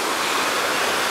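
Sea waves wash onto a beach in Alanya, a steady broad rush of surf heard close and loud without pause.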